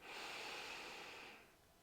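One slow, steady in-breath through the nose during a gentle hypopressive pelvic floor exercise. It is soft and airy and close, lasts well over a second, and then fades out.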